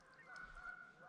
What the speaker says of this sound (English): Some geese chirping.